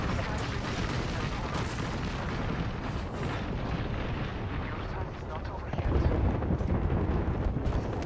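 Gunfire from the battle royale game Apex Legends roars as a continuous, dense barrage of booming shots, loud and close, growing heavier toward the end, with a voice faintly underneath.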